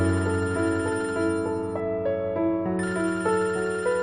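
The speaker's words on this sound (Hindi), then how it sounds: "ये तो फिर बज रहा है फोन।" A telephone rings in a Pakistani drama scene, a repeating electronic ringtone melody with steady pulsing notes, loud and close, playing alone without talk.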